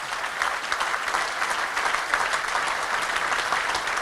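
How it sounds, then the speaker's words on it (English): A dinner audience at a Manchester United anniversary celebration gives a round of applause, a sustained even roar of many hands clapping, fairly distant and steady. "Just give Shirley a round of applause,"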